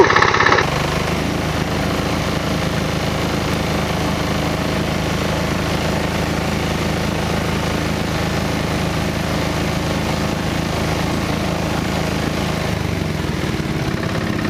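A vehicle engine running steadily in low range while stuck in mud in the woods, a loud, continuous droning rumble with vibration that starts abruptly and holds for the whole stretch.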